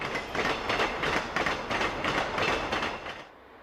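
Eastbound passenger Train 102, the City of San Francisco, rolling west of Morgan, Utah in the 1960s, with a Milwaukee Road Superdome car: loud steady rail roar and rhythmic wheel clatter close by, fading out at the end.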